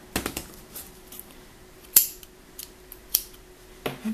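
Scissors snipping crochet yarn, a few sharp isolated cuts spaced across a quiet moment, close and clear with no talking.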